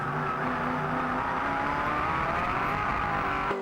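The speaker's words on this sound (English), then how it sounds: "Just hear the car just starting to wheel spin" A V8 race car at Teretonga accelerates hard off a corner in first gear, its wheels just starting to spin, giving a steady, loud engine roar that holds for a few seconds before cutting off abruptly.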